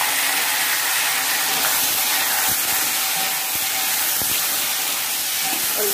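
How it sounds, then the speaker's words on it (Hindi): Chopped hog plums hit hot oil with crackled mustard seeds for a sweet chutney, setting off a loud, continuous sizzle that holds steady throughout, with faint stirring knocks underneath. "अब हम लोग इसमें डाल लेंगे जो हम लोगों ने काट के रखा हुआ था"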